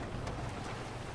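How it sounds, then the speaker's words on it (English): Rain in Grand Theft Auto V: steady, soft rain hiss with a low rumble underneath, even and continuous for a brief moment, no voices. "It's raining."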